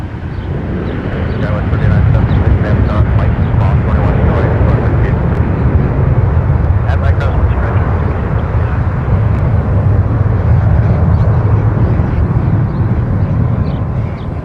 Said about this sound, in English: American 1198 is the flight that just touched down. That's from Dallas.